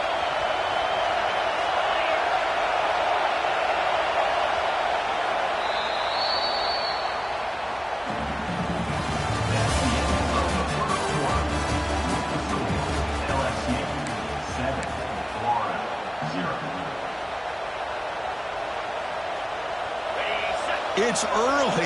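A stadium crowd at a football game roars and cheers in a sustained, swelling wash of noise that peaks midway, while an announcer talks over it throughout.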